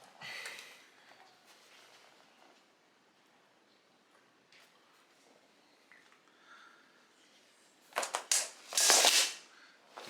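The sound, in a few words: cutting corflute sheet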